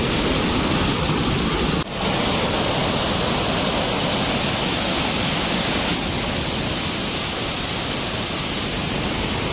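A loud, constant roar of flood water rushing through a brimming drain during rain fills the whole span, dense and unbroken, with one brief dip partway through.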